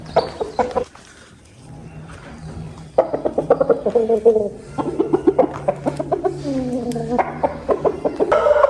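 Korean-breed roosters in Namangan cluck and call repeatedly at close range, a rapid run of chicken vocalizations filling most of the clip with a brief quieter pause early on.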